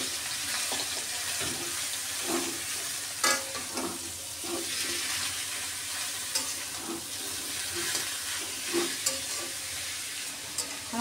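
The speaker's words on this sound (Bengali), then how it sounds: "এখন শাকগুলো দিয়ে দিলাম।" Bottle gourd greens fry in a pan with plenty of garlic, giving a steady loud sizzle throughout with occasional scraping and stirring knocks, no voices.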